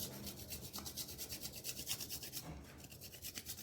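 White chocolate goes into bowls of coffee and chocolate pudding with a brisk, scratchy rubbing in short repeated strokes, close and fairly quiet, with no voices.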